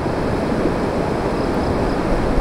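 A swollen river in sudden flood rushes past with a loud, steady roar of churning water, an unbroken wash of noise with no voices.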